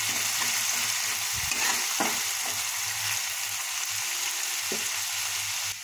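Masala spice paste for hilsa fish do-pyaza fries in a pan with a little water, a steady close sizzle with a few soft scraping stirs and clinks.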